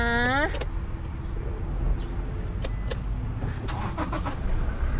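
A Toyota Hilux Revo pickup, started with an immobilizer remote key, gives a rising electronic chime followed by a low, steady engine rumble with scattered clicks and rattles.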